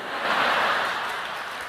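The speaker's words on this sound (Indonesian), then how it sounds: "Nggak usah tepuk tangan." Brief burst of audience clapping at a church sermon, a dense wash of many hands that swells and then eases slightly, with no voices over it.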